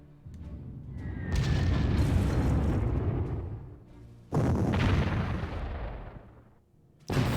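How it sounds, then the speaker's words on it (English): Artillery bombardment in the WWII strategy game Panzer Corps, heavy booming blasts with long rumbling decays, three separate barrages of rolling explosions, loud and close with no talking. "Bombarding"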